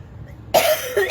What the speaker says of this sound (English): I told you I got that cough